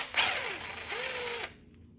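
A ratchet works a fuel pump bolt loose on an Olds 403 engine from the 1980s, a close buzzing mechanical clicking that runs about a second and a half before stopping.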